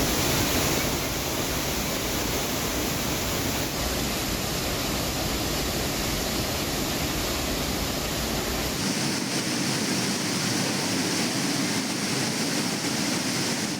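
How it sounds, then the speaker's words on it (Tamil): Water pours forcefully down the Main Falls, Five Falls and Old Courtallam waterfalls, a loud, continuous roar of rushing water that drops a little in level partway through. "மெயினருவி, ஐந்தருவி, பழைய குற்றால அருவிகளில் தண்ணீர் ஆக்ரோஷமாக கொட்டி வருகிறது"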